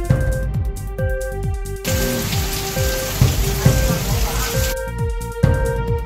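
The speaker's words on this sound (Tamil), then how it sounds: "தமிழகத்தில் மழைக்கு வாய்ப்பு." Steady rain falls with a dense, even hiss for about three seconds, framed by rhythmic music before and after.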